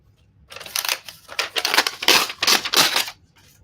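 Paper being cut for an accordion junk journal, a quick burst of crisp snipping and crinkling strokes, close and fairly loud, about three seconds long with no talking.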